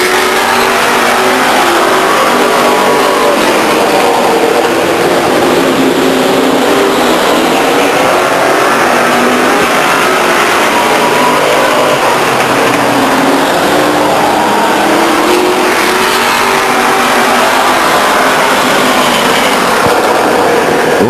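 Race cars lapping Stockton 99 Speedway, a dense continuous roar of several engines revving and accelerating, loud and sustained across the whole stretch with no talk over it.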